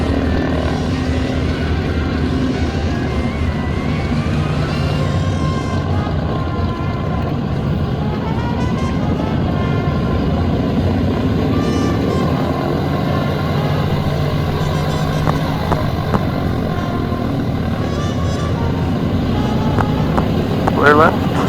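The big piston engines of a B-29 bomber drone and rumble continuously at close range, with crew talking over the steady roar.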